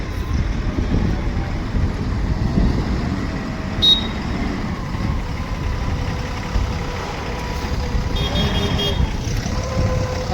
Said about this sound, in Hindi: अब सीधा कर रहे हैं अपनी गाड़ी को ये सोनू भाई।